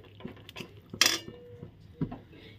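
A spoon clinks and scrapes against a pan while spices go into a pointed gourd dish, in a few quiet, separate taps with one sharper metallic clank.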